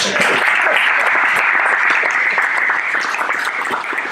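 Conference audience clapping loudly and continuously in a hall, a dense steady applause that holds at full strength for several seconds with no talk over it.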